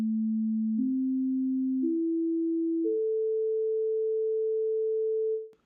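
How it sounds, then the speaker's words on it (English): Pure sine-wave tones step upward in pitch four times, each held steadily, ending on a long clean A4 tone at 440 Hz that stops abruptly; no other sound accompanies them. "you hear a pure 440 Hz tone, or a 440 Hz sine wave"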